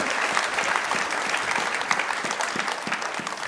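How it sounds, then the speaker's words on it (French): A church congregation at an Easter service claps together in a steady, dense round of applause, many hands filling the room at an even level from start to finish. "Ça méritait des applaudissements,"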